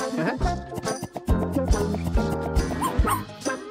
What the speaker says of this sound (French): Regarde, un bébé chien.